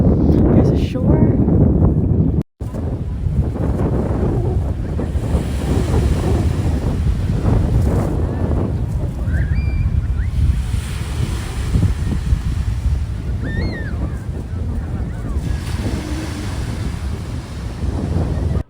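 Ocean surf rolls onto the shore at Coronado Beach under heavy wind buffeting the microphone, a constant roaring wash with swelling waves, loud and close.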